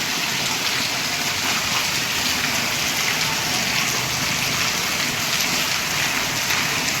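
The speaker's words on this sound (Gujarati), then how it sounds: "પૂરી રાતથી વરસાદ આવી રહ્યો છે" Heavy rain pours down steadily over a residential housing complex, a dense, unbroken hiss of drops striking surfaces with no voices.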